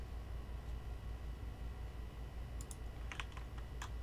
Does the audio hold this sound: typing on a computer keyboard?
yes